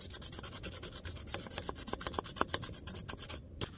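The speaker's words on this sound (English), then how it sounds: "it comes with this little scraper, and it works shockingly well. You basically just scrape" A small metal scraper rasps across a Bitty Big Q grill surface in quick, regular strokes, about six per second, close and fairly loud with no talk, stopping briefly near the end.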